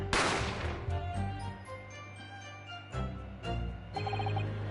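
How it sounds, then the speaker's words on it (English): Single sharp gunshot sound effect in the courtroom game The Great Ace Attorney, a burst at the start whose reverberation decays into sustained tonal game music. "a gunshot rang in my ears"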